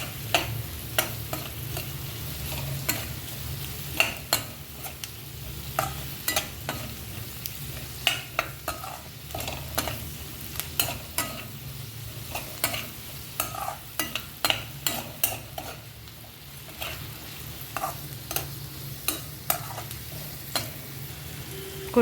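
Onions and capsicum sauté in a kadai with salt, giving a continuous soft sizzle broken by many sharp scraping stirs of the spoon against the pan, close up and without talk.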